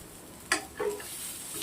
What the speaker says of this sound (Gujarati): બે મિનિટ સુધી સરસ સંતળાવા દેશું.